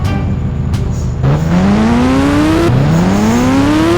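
A motorbike engine in a mobile video game revs loudly and continuously, its pitch climbing through two rising sweeps as it accelerates, with a brief drop between them.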